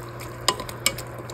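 Beef and seaweed simmer in a pot with just a little water for Korean seaweed soup, giving a faint bubbling with two brief clicks or stirring taps against the pot, nearby and quiet.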